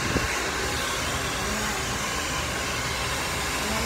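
Hair dryer blowing on a person's hair, a loud continuous whooshing roar that stays steady throughout with no pauses.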